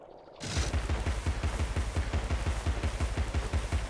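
A weapon that overheats fires in Alice: Madness Returns, a rapid, even stream of loud shots with heavy low thuds that starts abruptly after a brief quiet moment and keeps a tight machine-gun rhythm to the end.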